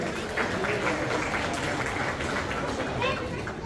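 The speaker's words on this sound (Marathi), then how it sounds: "आपण सर्वांकडून एक जोरदार टाळ्या सुशील दादा यांच्यासाठी झाले पाहिजे" A crowd applauds Sushil Dada at a Dharmaveer Chhatrapati Sambhaji Maharaj birth anniversary celebration in Dubai, with dense, steady clapping and murmur of voices that holds at an even level throughout.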